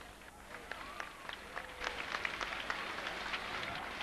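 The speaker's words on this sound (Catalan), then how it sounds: "A les tres colles la rebem amb un gran aplaudiment." A distant crowd at a 1995 festival human-tower event in Igualada claps in a faint, steady patter of many hands, heard from afar with a speaking voice over it.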